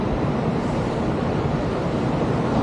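Surf washing onto a seashore at dawn in Western Sahara, a steady, dense roar of waves with some wind noise on the microphone, continuous and fairly loud with no distinct breaks.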